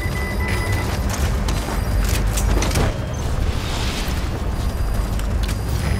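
Missile explosions and heavy booms hit a gunship in Metal Gear Solid V: The Phantom Pain, a dense burst of blasts and rumbling debris over game background noise, with no talking.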